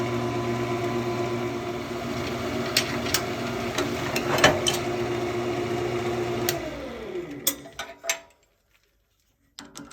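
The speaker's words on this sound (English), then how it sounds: "I've always drilled pilot holes into my material using the slowest speed on my lathe" A lathe at its slowest speed drills a pilot hole through material for a sleeving rod, a steady humming whir with scattered ticks and knocks, then winding down and stopping near the end, leaving brief quiet.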